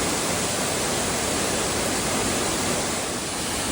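Ozone Falls, a waterfall in Ricketts Glen State Park, roars steadily and loudly with dense broadband rushing water, close and unbroken throughout with no voices.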